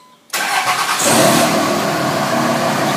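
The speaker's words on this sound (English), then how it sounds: "It starts right up." A 2002-2005 Dodge Ram pickup fitted with a push-button start conversion cranks and fires, loud and close after brief silence, then settles into a steady, rumbling idle.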